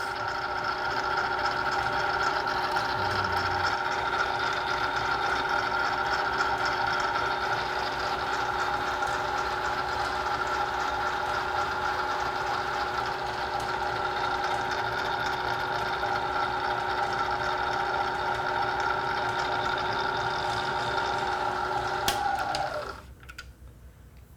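Milling machine cutter taking a final pass along the back side of a metal workpiece, a steady loud whine with sustained harmonic tones running unbroken before stopping abruptly near the end.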